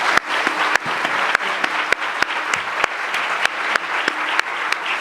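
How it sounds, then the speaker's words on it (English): Audience applause for the women at a Women in Trucking 2024 event in Dallas, Texas: steady clapping from a crowd in a hall, with a few sharp, louder claps standing out near the microphone, holding at an even level throughout. "Let's give these ladies a round of applause."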